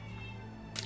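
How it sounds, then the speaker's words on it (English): A cat meows somewhere outdoors during a home computer build: a steady low hum fills the room, then one short, brighter cry bursts in near the end at moderate loudness. "I have a meowing cat outside that won't fucking shut up."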